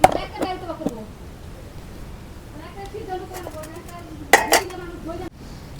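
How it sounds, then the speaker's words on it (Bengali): A metal kadai set down on a stove gives a sharp clank, amid earlier light clinks of pots and utensils, while someone speaks intermittently close by. "এখন কড়াই বহাই দেই।"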